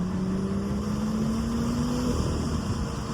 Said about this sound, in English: Strangely, the best thing about this car, and you're not going to believe this, is the turbo whistle.